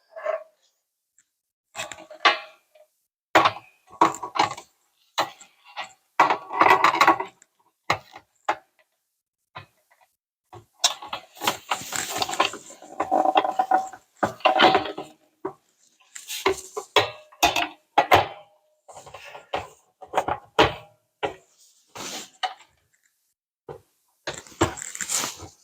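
Fitting a Drop Block knife storage block under a kitchen cabinet: a long run of close, sharp knocks, clacks and hard wooden or plastic clatters in irregular bursts with short pauses, with no talking.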